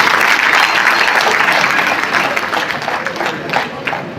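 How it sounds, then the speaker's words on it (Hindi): Loud, dense applause from a crowd at an International Nurses Day award ceremony, steady clapping that tapers slightly toward the end. "तालियों की कमी नहीं होनी चाहिए।"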